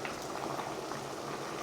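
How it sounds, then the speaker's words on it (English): Water boils hard in a pot on a stove for ravioli, a dense, steady bubbling roar heard close up with no voices. "All right, so this is obviously boiling now."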